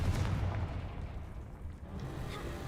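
A booming fiery blast rumbles from a magic blasting spell cast in a fantasy video game, a dense low roar that fades and swells briefly over about three seconds.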